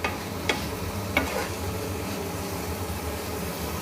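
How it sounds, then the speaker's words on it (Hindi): Spices get stirred in a pan over a low flame for radish leaf sabzi, with a soft continuous sizzle and a couple of sharp spoon-scrape clicks, and no talk. "अच्छे से मिक्स कर लेंगे हम सब मसालों को।"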